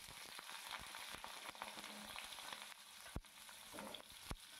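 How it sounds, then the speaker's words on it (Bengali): Pointed gourd (potol) pieces dropped into hot oil tempered with cloves, cardamom, cinnamon and dried red chilli, sizzling steadily and close, with sharp spoon knocks against the pan as they are stirred. "এটা ফোড়ন দিয়ে এবার পটলগুলোকে সম্পূর্ণ ছেড়ে দেবো।"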